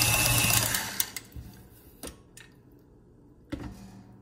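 Whole wheat sweet roll dough being beaten by machine, a steady mechanical whir that fades after the first second, followed by a few sharp knocks and clacks spaced apart.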